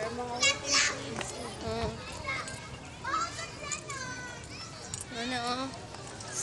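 School students play in the grounds of Rizal Memorial Colleges, a lively mix of children's shouts, chatter and squeals overlapping throughout, close and fairly loud.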